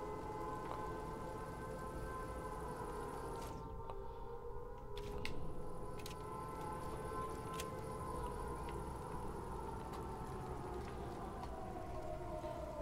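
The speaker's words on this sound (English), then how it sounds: "won't hear anything because the air raid sirens are going" A steady wailing air raid siren in the video game Sniper Elite 5 drones on continuously, holding sustained tones with slight pitch drift over a dense, noisy background, with no voices.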